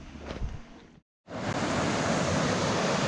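Steady broadband rush of a river running through a rocky gorge near Beddgelert in Snowdonia, a continuous roar close by, briefly cut out for a moment before resuming at full strength.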